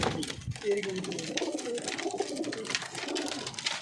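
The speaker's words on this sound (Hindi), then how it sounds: "बहुत शानदार कबूतर।" Prized pigeons in a small backyard loft give low, rolling coos, repeated close calls that overlap, with a human voice talking now and then underneath.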